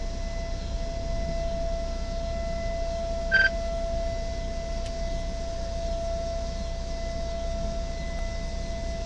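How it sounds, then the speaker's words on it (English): A tornado siren sounds during a Northern Illinois tornado outbreak, holding a steady, droning wail throughout without rising or falling, with one brief higher tone partway through. "What an annoying tornado siren."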